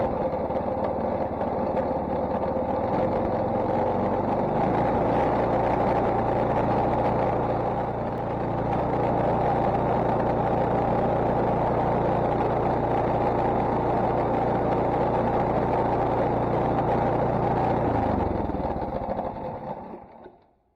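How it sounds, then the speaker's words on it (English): A Troy-Bilt snow thrower's small gasoline engine runs at a steady, loud drone for about twenty seconds after a crankshaft seal repair, then cuts off and winds down at the end. "Start the engine and let it run for 30 minutes to check for leaks."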